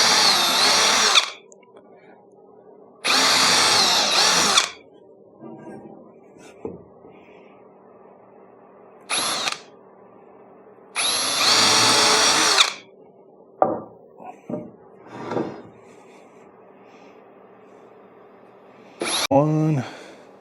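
A power drill drives screws into wood camper wall framing in several whirring bursts of a second or two each, with short pauses and clatter of handling between them, fairly close.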